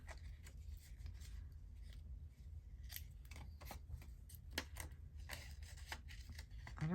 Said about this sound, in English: Oh my goodness, scissors.